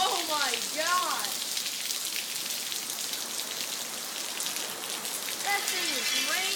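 Solid rain pouring down at Little Switzerland, a loud continuous wash of falling water, with people's voices speaking over it at the start and again toward the end.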